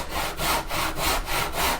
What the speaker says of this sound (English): I'm allowing the mitre box to guide where the saw's cutting.